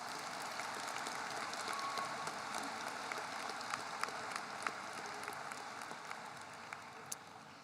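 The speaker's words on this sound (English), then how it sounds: "Please give a round of applause to your parents, friends, loved ones, teachers, staff" A large crowd at the Timberland High School 2023 graduation ceremony claps in a steady, dense patter heard from a distance, with a few sharper, closer claps standing out near the end.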